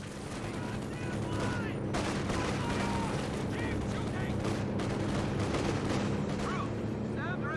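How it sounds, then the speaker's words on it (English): An artillery barrage in Company of Heroes 2, heard as a constant roar of shelling and bursts of gunfire, with whistling rounds passing overhead and a dense, rumbling battle mix throughout. "Not a great barrage."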